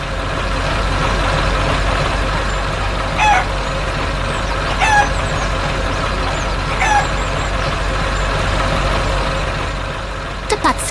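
Chickens and a rooster crowing at a cartoon farm barn, several crows over a steady background hum, with a few short clucks near the end.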